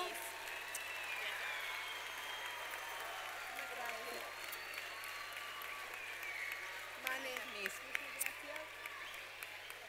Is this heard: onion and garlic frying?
no